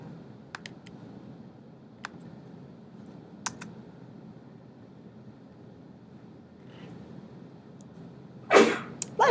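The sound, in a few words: sneeze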